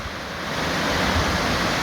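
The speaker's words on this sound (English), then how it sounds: "look at the power of that water down the weir, down the salmon race and the runoff." The flooded River Don in Sheffield pours over a weir and down a salmon race, a powerful, continuous roar of rushing water, loud and close and building slightly.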